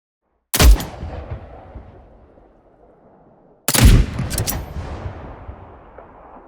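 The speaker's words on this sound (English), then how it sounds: "This layer plays a key role in situating the gunshot within the game's world" Two sharp first-person shooter video game gunshots a few seconds apart, each followed by a long, rumbling indoor reverb tail that fades slowly, like a shot in an enclosed space.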